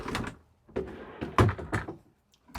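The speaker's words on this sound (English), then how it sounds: "Pocket doors, pretty cool." Pocket door sliding in the bathroom of a 2025 Winnebago Travato 59K camper van: several close thuds and rolling slides in quick succession, loud and clear with no voices.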